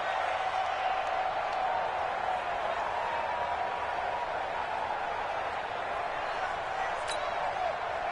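Steady crowd roar in an American football video game as a big third down approaches, a broad continuous wash of cheering that holds at a fairly even level with a commentator talking over it.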